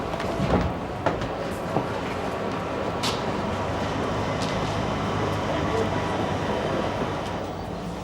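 A train running on the tube line to Island Gardens, heard from inside as a steady, loud, continuous rumble with occasional rail clicks and squeals over the whole stretch.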